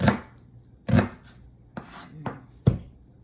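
Onions being chopped with a knife on a cutting board, five distinct sharp chops spaced irregularly, close and fairly loud with no talking.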